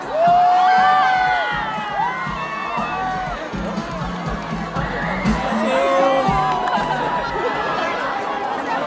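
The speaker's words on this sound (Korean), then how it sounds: "큰 박수 부탁드립니다" A large crowd at a university autumn festival, the Chung-Ang University Anseong campus, cheers as the university president is called onstage for an award ceremony, with high screams, whoops and shouting voices swelling over a noisy crowd.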